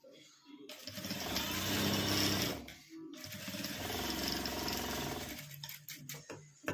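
Domestic sewing machine stitching a homemade school pouch, running in two steady loud bursts of rapid mechanical whirring with a brief pause between them and a few clicks at the end.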